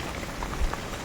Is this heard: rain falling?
yes